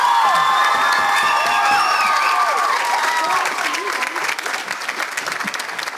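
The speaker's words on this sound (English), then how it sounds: "Can we all give a big round of applause to Charles" A school holiday choir concert crowd applauds and cheers for Charles, a bass singer, with loud sustained clapping mixed with whoops and raised voices that thin out toward the end.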